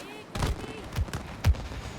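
Shots ring out in the video game It Takes Two as a player fires at a wall: three or four sharp, punchy bangs spaced about half a second apart, close and loud over a faint background.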